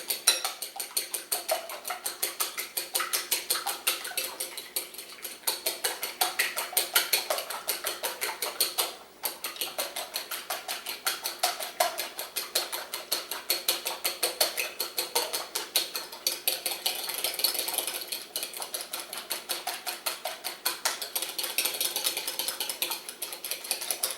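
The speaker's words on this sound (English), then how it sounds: "just going to take my fork, just want to whisk it up a little bit here" A fork whisks cracked eggs in a bowl for lasagna, making fast, steady rhythmic clicking and tapping against the dish that continues closely and evenly throughout.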